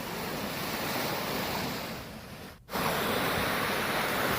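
Som river floodwater rushing with a loud, steady roar, continuous broadband surge that dips briefly before returning at full force; no voices.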